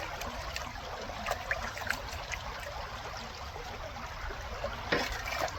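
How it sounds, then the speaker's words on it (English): Water trickles and burbles steadily down the riffles of a gold sluice at a glacial creek in Wisconsin, a continuous outdoor wash with a few brief splashy spikes and no voices. "Just gonna run water down the riffles here."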